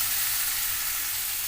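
Potato pieces frying in hot oil with salt and turmeric, a steady close sizzle with a broad hiss that holds evenly and uninterrupted throughout.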